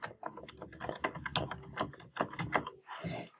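Quick bursts of typing on a computer keyboard as a password is entered, close and crisp, with irregular clusters of key clicks and a brief pause before a final few strokes.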